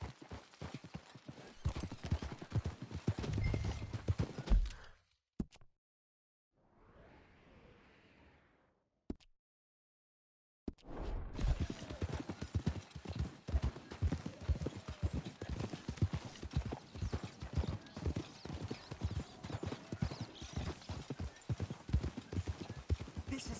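Several horses clip-clop at a walk through a Red Dead Redemption 2 scene, steady hoofbeats close and prominent, broken by a short quiet stretch with a faint muffled passage before the rhythmic plodding resumes.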